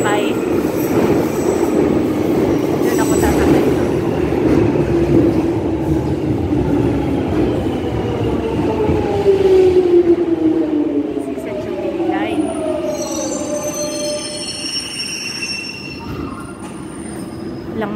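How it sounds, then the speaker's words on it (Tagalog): A train pulls into a station, its wheels squealing in rising and falling tones over a steady rumble that swells as it nears, with a person talking at times throughout. "Wala pala sa kabila yung train na isa. Ay hindi, yun. Yan ang parating na."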